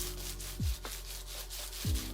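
Felt picture pressed under bubble wrap being rubbed by hand, giving a steady soft scraping friction with two brief low thumps, close and alone without talk.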